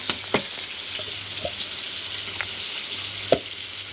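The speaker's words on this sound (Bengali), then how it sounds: "আমাদের মাছগুলো ভাজা হয়ে এসেছে।" Fish frying in a pan for a prawn and fish malai curry, a steady soft sizzle under scattered clicks and light utensil knocks, with no talking.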